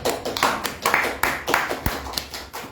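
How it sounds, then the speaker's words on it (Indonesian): Applause breaks out at an Indonesian business seminar, an audience clapping in a quick, uneven patter of close, sharp hand strikes that pulse steadily for a few seconds. "Tepuk tangan untuk Anda semuanya."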